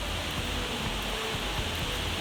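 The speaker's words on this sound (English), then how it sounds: "Just look at that rain." Heavy rain pours steadily outdoors during a school assembly, a dense continuous hiss with low rumbling underneath, loud and unbroken throughout with no other sounds standing out.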